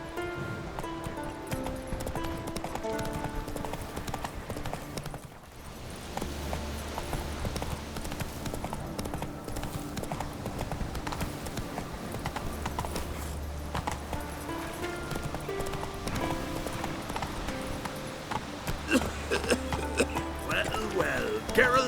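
Horse hooves clip-clop at a rhythmic gallop in the video game Witcher 3 Wild Hunt, steady and close, with game music and ambient rustle underneath throughout.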